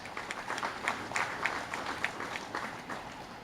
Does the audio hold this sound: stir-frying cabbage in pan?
no